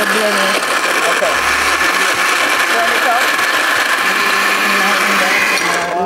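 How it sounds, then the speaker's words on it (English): Blender whirring as it purees breadfruit with water for porridge in a backyard kitchen, a loud, steady motor drone running for several seconds before cutting off. "now we add it to the blender"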